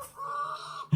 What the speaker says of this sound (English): 6 hens and a rooster.